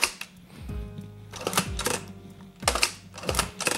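A Mamiya RB67 medium-format camera shutter fires at 1/125 s and then resets, giving a few sharp mechanical clunks and clicks in close succession, recorded up close with no talking.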